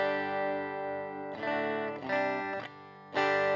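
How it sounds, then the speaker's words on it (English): An electric guitar played through a Rift V-Front amp pedal with the tremolo off and reverb on: sustained ringing chords, then two fresh strums around the middle and a louder final strum, each left to decay with a reverberant tail. "So I've got some reverb on."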